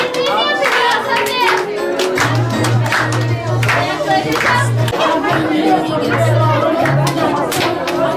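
Audience clapping at a Leukaemia Children's Week event, rhythmic claps running under chatter and children's voices, with steady musical tones sounding alongside.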